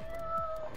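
A pet cat gives a short meow, close by and fairly clear, lasting under a second.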